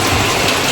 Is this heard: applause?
no